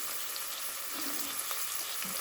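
A medium-sized onion fries in about three spoons of hot oil in a pan, giving a continuous, even, close-up hiss and crackle with no voices.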